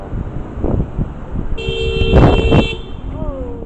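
A car horn blares in a short, loud honk lasting about a second as a driver is nearly cut off in traffic, with road noise and a faint voice around it.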